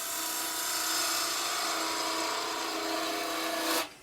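A bowl gouge cuts wood spinning on a lathe, a steady close hissing scrape with a bright tonal whine that holds for a few seconds and then cuts off sharply.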